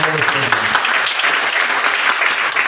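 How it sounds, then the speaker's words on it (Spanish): Loud, dense applause from a church congregation during a Spanish-language sermon, a steady roar of clapping that follows the preacher's final spoken words at the start. "Dale un aplauso fuerte al Señor"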